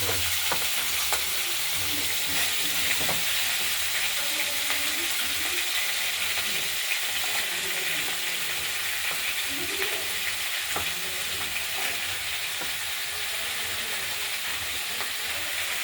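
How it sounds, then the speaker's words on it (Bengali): Steady loud sizzling of chopped onion stalks frying in hot oil, with occasional crackles and stirring scrapes, continuous and close, no talking. "পেঁয়াজ কলিগুলো আমরা তেলে ভাজা"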